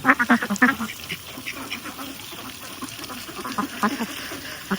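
Ducks on a duck farm quack loudly in a rapid, overlapping chorus close by, louder at the start and then steadier, with faint background voices.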